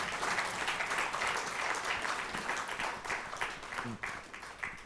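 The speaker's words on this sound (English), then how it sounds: "I would request you to give a big round of applause to Dr. Aiyar." An audience at a panel discussion claps in a dense, steady wash of applause that fills the room and thins toward the end, with a voice speaking faintly underneath.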